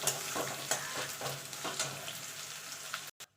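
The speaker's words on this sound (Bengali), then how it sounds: "পেঁয়াজটা ভাজা ভাজা করে নেব।" Chopped medium onion frying in a pan for a Bengali-style chicken kosha, a steady close sizzle with repeated scraping stirs every half second or so, ending in a brief cutoff.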